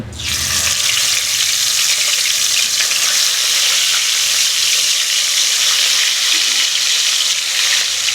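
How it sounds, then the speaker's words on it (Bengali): Koi fish (climbing perch) fry in hot oil for a tel koi dish, giving a loud, close, continuous sizzle that crackles steadily the whole time with no talking. "বাকি মাছটা আমি একইভাবে ভেজে নেব।"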